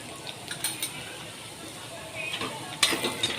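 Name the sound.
cumin, chili powder and turmeric stirred in sizzling pan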